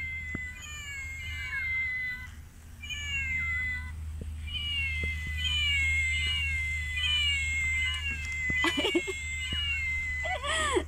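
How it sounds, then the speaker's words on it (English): Several cats meow repeatedly in rising, drawn-out cries, some overlapping, over a steady low hum, with a few sharp clicks near the end. "cat meowing"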